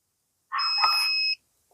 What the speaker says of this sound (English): You can hear the beep. That means the system is off.